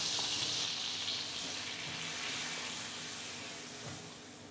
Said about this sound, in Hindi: फ्लेम को लो रख के 1 से 2 मिनट हम मैदे को भून लेंगे मक्खन के साथ